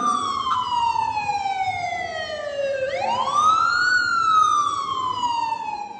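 A loud wailing ambulance siren sweeps down slowly, then rises sharply and falls again, with road noise underneath and no voices.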